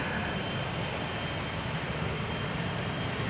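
A Transavia airliner climbs and banks after takeoff at Schiphol, its engines giving a steady, broad roar that holds fairly loud and constant without any talking.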